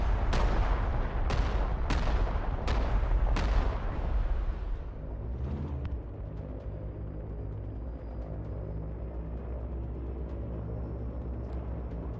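Artillery fire in the video game Broken Arrow: a run of five heavy, evenly spaced blasts in the first few seconds, fading into a long low rumble with scattered distant thumps.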